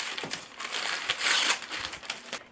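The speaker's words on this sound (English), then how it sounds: "So I'm going to go ahead and just peel the paper off the back." Paper backing peeled off the back of a self-stick floor tile, a close, dry crinkling and tearing rasp that swells in a louder burst midway, with no voices.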